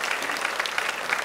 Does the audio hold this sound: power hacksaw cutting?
no